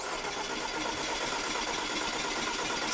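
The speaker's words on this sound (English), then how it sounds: "that is where we're gonna tell her to stop cranking the engine." A car engine turns over on the starter during a compression test, making a steady, fast rhythmic cranking drone that holds constant and fairly loud throughout, with no talking.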